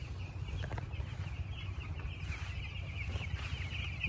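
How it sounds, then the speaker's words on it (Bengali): Chickens on a poultry farm on a hot day give soft clucks and calls over a steady low hum, a dense flock murmur at moderate distance with no talk. "দেখেন আসলে মুরগিগুলা হচ্ছে শাসাচ্ছে।"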